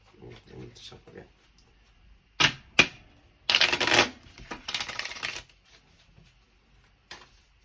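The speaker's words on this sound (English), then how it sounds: "I need to shuffle again." Tarot cards being shuffled in sharp riffling bursts, a few quick snaps followed by a longer crisp shuffle, close and clear, with soft speech around the edges.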